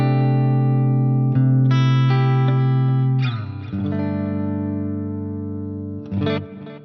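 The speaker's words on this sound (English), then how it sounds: "let's start with kind of this main kind of clean tone. And I do have a chorus on it." Clean guitar tone with chorus from a Quad Cortex rings out in shimmering sustained chords, one steady held chord giving way to fresh strums near the middle and again at the end, loud and alone.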